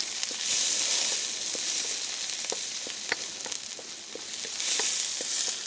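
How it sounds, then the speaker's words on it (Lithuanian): Food sizzles and fries steadily in a pan, a continuous hiss at moderate level with scattered small pops and crackles throughout. "Pyst ir kepa jau, matai?"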